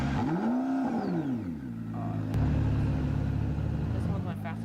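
McLaren car engine in the Roblox game Vehicle Simulator revving up and down, then settling into a steady loud drone with a whine layered on top.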